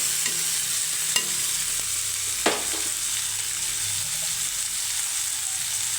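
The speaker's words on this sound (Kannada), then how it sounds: "ಈರುಳ್ಳಿ ಮತ್ತು ಟೊಮ್ಯಾಟೊ ಸಾಫ್ಟ್ ಆಗೋವರೆಗೂ ಚೆನ್ನಾಗಿ ಮಿಕ್ಸ್ ಮಾಡ್ಕೋಬೇಕು." Onions and tomatoes fry in a pan with a steady hiss, broken by a few sharp scrapes of a spoon as they are stirred, close and fairly loud with no talking.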